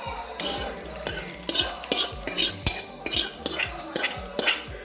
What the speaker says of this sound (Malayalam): ഇനി നന്നായിട്ടൊന്ന് ഇളക്കി കൊടുക്കുക.